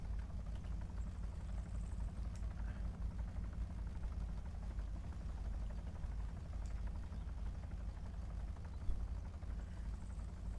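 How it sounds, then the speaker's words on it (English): A helicopter taking off in the video game Arma 3 thrums in a low, steady, pulsing rotor drone that holds at an even level throughout, with no voices over it. "that's a helicopter taking off"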